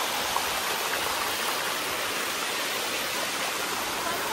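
A mountain stream flows at a rest stop on a monsoon trek at Koraigad: a steady, close rush of water, loud and unbroken.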